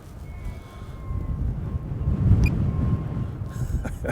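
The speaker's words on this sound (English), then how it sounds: "it's just windy." Gusty wind blows outdoors at a stadium construction site, a steady low rumble buffeting the microphone with a faint tonal hum throughout.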